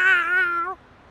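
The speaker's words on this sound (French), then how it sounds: "Oh, y a un chat." A single clear cat meow in the video game South Park: The Fractured But Whole, close and loud, sliding downward and cutting off abruptly.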